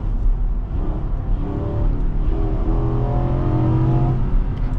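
A 2024 Infiniti QX80 SUV accelerates hard on a 0 to 60 run, its engine note climbing steadily and loudly over a constant road roar, with no voices.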